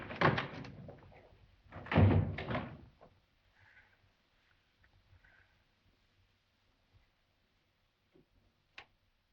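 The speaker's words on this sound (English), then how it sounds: "The door just opened and closed down, Doll." A door in a 1943 classic horror film opens and closes, with two heavier thuds early on, then faint scattered creaks and a sharp click near the end, in an otherwise quiet room.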